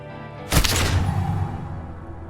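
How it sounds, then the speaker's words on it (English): A single sharp gunshot rings out in Disco Elysium, a loud close crack that gives way to a rumbling, slowly fading tail, with no voices over it. "A plume of smoke and fire erupts from the gun, and your hand goes numb from the explosion."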